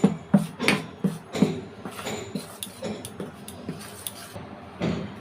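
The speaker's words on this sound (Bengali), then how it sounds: "আমি এখানে প্রথমে 1 চামচ, 2 চামচ আটা দিয়ে আগে এটাকে ভালো করে মিক্স করে নিচ্ছি।" Wheat flour being stirred into sponge cake batter, a spoon clinking and tapping against a bowl in an irregular rhythm of sharp knocks, fairly close and quiet.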